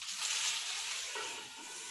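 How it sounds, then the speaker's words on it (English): Water sizzles and hisses steadily in a hot pan of potstickers, a close, continuous frying crackle with no voices. "all you're waiting for with this is to hear the water boil off"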